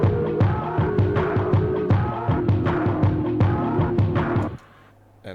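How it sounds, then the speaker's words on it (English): A dark beat with drums and melody passes through wave shaper distortion, giving loud rhythmic hits with gritty, dense harmonics that play steadily and then stop abruptly, leaving a low hum. "we're adding a wave shaper to add a bit of distortion."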